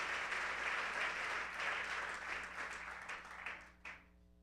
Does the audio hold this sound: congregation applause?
yes